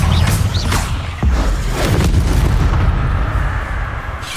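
Confringo blasting spells cast in the video game Hogwarts Legacy, loud booming impacts and crashing explosions rolling over a dense, rumbling battle bed, with a few sharp whooshing bursts early on.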